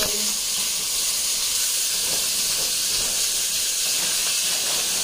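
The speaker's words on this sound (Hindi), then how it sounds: "सो ये शैलो फ्राई होना चालू हो गया है।" Oil sizzles and hisses steadily as almonds shallow fry in a pan on a gas stove in a home kitchen, loud and continuous throughout with no talk.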